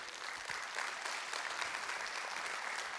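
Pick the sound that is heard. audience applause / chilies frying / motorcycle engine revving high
audience applause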